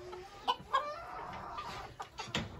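Silkie bantam hens in a breeding shed give soft, intermittent clucks and short calls, fairly close, over a quiet indoor background.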